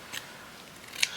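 Scissors cut paper flowers with two quick, crisp snips, one near the start and a sharper one near the end, against a quiet room.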